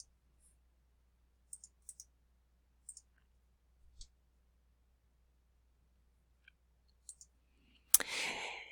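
Mouse clicks on a computer, a few faint, scattered single and double clicks spread across a quiet stretch, followed near the end by a sudden burst of broadband noise.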